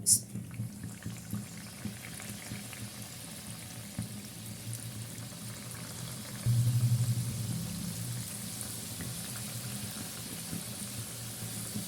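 Maldivian snacks dropped into hot oil and frying in a home kitchen: a steady soft bubbling sizzle that swells noticeably as the pieces go in, continuing evenly to the end.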